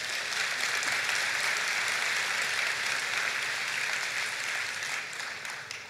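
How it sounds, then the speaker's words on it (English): An audience at a 2018 college convocation gives the panelists a sustained round of applause, dense clapping that holds steady and then begins to taper off at the end. "Let's give our panelists another round of applause."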